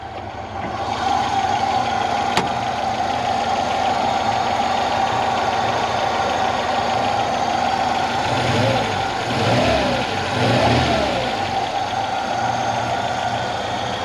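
A Moskvich-2140 car engine idles steadily, then revs up a couple of times with rising and falling surges, close by and continuous throughout.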